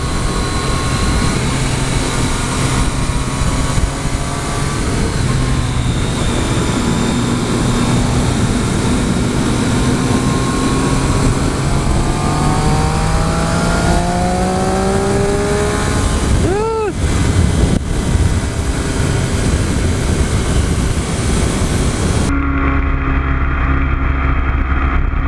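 A 2014 Triumph Street Triple R engine climbs repeatedly through its revs on a ride, rising whine sweeping upward over steady wind rush, loud and close throughout.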